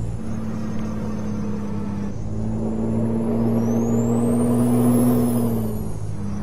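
A Peterbilt 389 truck engine in a driving video game, a steady low diesel drone with a strong steady hum, rev-limited and pulling hard without gaining speed, loud and continuous throughout.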